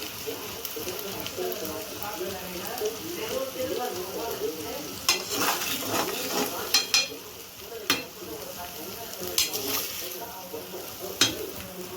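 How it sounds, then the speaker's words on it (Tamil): Scrambled egg sizzles gently in a pan while being stirred, with repeated sharper scraping bursts of a spatula against the metal over a low frying hiss. "இப்போ நல்லா கிளறி விட்டுக்கோங்க."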